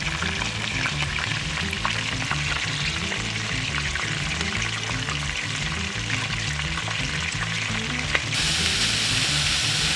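Bacon sizzling in a pan with caramelized onions for a South African braai pie, a steady loud frying crackle throughout with a brief stir noise near the end.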